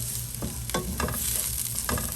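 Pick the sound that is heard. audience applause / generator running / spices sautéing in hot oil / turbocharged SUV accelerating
spices sautéing in hot oil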